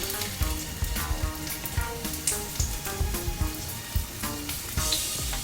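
Slices of ginger fry in vegetable oil in a large saucepan, giving a busy continuous sizzle with frequent crackles and small pops, close and steady with no voices.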